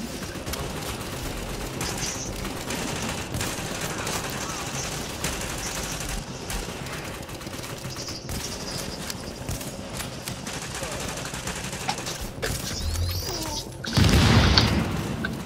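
Gunfire in the shooter game Tom Clancy's The Division, rapid bursts of weapon fire rattling on and off throughout, with a louder heavy blast near the end and background game noise.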